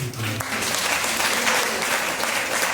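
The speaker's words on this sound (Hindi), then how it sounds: "जोरदार ताली बजाइए।" A church congregation claps loudly during a Sunday sermon, steady sustained applause filling the whole stretch, with a brief voice at the very start.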